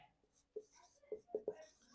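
A pen writes a short name on paper, several scratchy strokes in quick bursts heard up close, with faint whispery breath around them.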